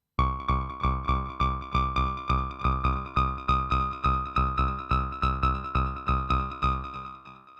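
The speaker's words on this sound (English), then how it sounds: "another TB-303 kind of sound, but one that is more of an acid sound" An acid TB-303 style synth line from a Korg Electribe 2, a distorted saw oscillator pulsing in an even, rapid run of repeated notes, loud and alone, with the last note fading away.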